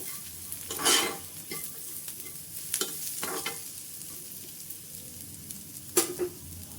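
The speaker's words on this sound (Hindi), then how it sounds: "अब हम जो मसाले हमने रखे थे अब उसको इसमें ऐड कर देंगे और इनको चला लेंगे।" A gentle sizzle of spices in a pan over a very low flame under a few scraping stirs, with spoon strokes coming at irregular intervals.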